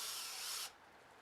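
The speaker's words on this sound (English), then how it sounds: "I unscrew all screws holding the form together" Power drill backing screws out of a wooden concrete form for a root cellar, a short, faint, steady whir that stops abruptly partway through.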